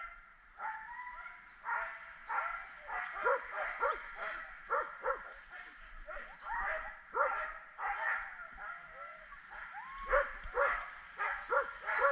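Sled dogs on a winter sled-dog outing, one harnessed for skijoring, bark and whimper in a busy overlapping chorus of yips and whines close by, the sound pulsing steadily throughout with no talk over it.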